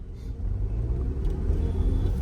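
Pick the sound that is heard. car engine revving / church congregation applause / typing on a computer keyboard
car engine revving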